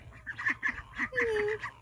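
Ducks quacking in an orchard, a quick run of nasal calls followed by one drawn-out, sliding quack, close and fairly loud with no talk over them.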